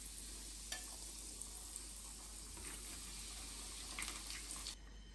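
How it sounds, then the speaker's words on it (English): Corn coated in corn flour fries in hot oil, giving a faint, continuous sizzling crackle with a few small pops near the end and no talking. "So keep some oil to be heated, and then let's fry this."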